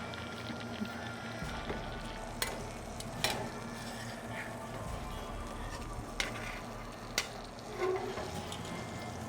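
A 6666 Ranch ribeye steak sears in a pan with butter, giving a low, steady sizzle and crackle under a constant hum, punctuated by a few sharp clicks and taps of utensils.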